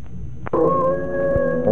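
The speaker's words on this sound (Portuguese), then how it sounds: "O velho cão de caça, a cabeça encostada rente ao chão, gania como um ser humano que chorasse a mágoa mais profunda e mais sentida." An old hunting dog, head pressed to the ground, whines in a long, steady, mournful howl that follows a short sharp onset, close and fairly loud with no talk.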